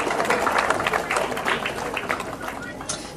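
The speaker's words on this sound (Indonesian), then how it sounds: "Tepuk tangan buat SDIT Al Khairat." A crowd applauding for SDIT Al Khairat at a school Qur'an completion ceremony in Yogyakarta, a dense burst of clapping that slowly thins out, with chatter mixed in.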